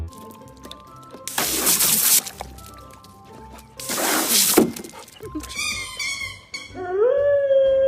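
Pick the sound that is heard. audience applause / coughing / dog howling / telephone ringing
dog howling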